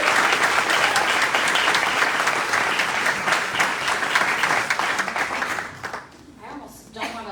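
Loud, sustained audience applause at an award ceremony honoring a top cosmetology teacher, dense clapping filling the room for about six seconds before thinning out as a voice begins to speak.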